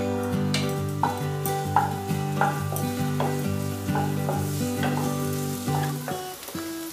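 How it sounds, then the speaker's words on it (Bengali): Onion fries in three spoons of white oil in a kadai over medium heat, a steady sizzle under a recurring musical melody, with occasional stirring scrapes. "মাঝারি আঁচে, পেঁয়াজটা ভেজে নিচ্ছি।"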